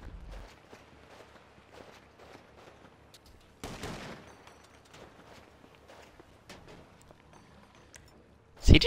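Gunfire in GTA sounds as quick clusters of sharp, faint shots with scattered footstep-like taps, one denser burst in the middle and a loud blast at the end.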